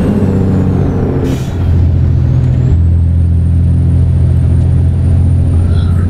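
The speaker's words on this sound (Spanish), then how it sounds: "Los vamos a puro freno de aire." Air brakes on a city bus in American Truck Simulator, set in Acaponeta, Nayarit, Mexico, give a short hiss over a loud, steady engine rumble.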